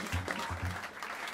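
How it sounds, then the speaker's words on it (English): A short burst of audience applause at a jazz club, dense clapping with a few thumps underneath, sustained at moderate loudness. "Please give a big round of applause to Steve Ash on the piano"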